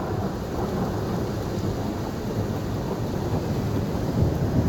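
Thunder rolling through a Tennessee lightning storm, a steady deep rumble with rain hiss that holds for several seconds and swells slightly near the end, heard alone with no voices.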